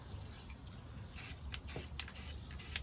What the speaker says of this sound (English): We're going to spray a little bit of white right here so it pops a little bit.